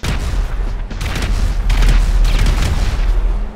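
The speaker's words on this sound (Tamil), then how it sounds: "அப்பா வெடிச்சிருச்சு நினைக்கிறேன்" A bomb blast blowing open a door in GTA 5, a loud deep rumbling boom followed by a series of crackling bursts and rolling low-end thunder, close and sustained.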